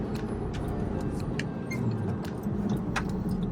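A Porsche engine hums steadily from inside the moving car, with road rumble underneath and a few faint clicks.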